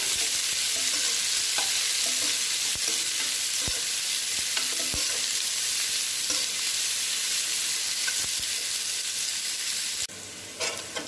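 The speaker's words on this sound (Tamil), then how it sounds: "வெங்காயம் நல்லா வதங்கிருச்சு" Chopped onions sauté in a pan for mushroom gravy, giving a steady broadband sizzle with frequent scraping stirs and clicks of a spoon, close and fairly loud throughout with no talk.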